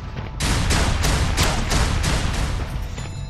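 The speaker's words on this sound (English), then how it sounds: "I'm taking heavy fire!" Heavy automatic gunfire from a PS3 session of Unreal Tournament 3 pounds in dense, rapid volleys, loud and continuous for the whole stretch with no voices over it.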